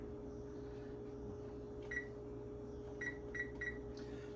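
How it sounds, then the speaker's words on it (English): A kitchen timer being set for baking Moroccan khobz white bread gives a few short, faint electronic beeps, one then a quick series of three, over a steady oven hum. "Get the timer going for"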